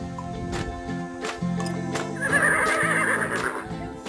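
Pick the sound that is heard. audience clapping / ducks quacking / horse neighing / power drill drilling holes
horse neighing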